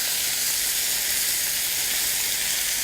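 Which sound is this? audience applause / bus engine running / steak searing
steak searing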